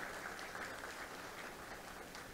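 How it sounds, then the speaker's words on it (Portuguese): Steady applause from an audience at a municipal association event in Brazil, fairly faint and continuous throughout with no voices over it. "Uma salva de palmas."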